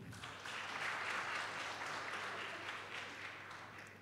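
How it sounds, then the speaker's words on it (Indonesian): Applause from a church congregation after a Sunday school performance, a steady dense wash of clapping that swells and holds for several seconds without pause. "Kita berikan tepuk tangan sekali lagi."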